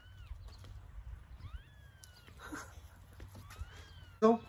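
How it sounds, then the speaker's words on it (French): A cat screeches in high, wavering cries over quiet background rumble, ending with one sudden loud yowl. "J'ai l'impression qu'il y a un chat qui se fait égorger."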